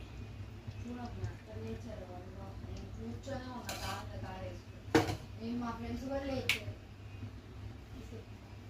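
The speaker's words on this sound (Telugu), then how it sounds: "వెలిగించి బాండీ పెట్టాను" A kadai is set down on a lit stove while mutton masala curry is being cooked, giving one sharp metallic clank partway through amid steady nearby talking.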